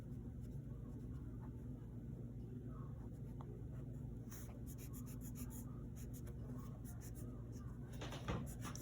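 Pencil drawing lines on paper for a chibi-style figure, faint scratchy strokes in short bursts over a low steady background hum.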